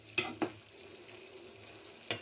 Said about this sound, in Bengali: তো এটা হতে থাক, একবার নাড়া দিই।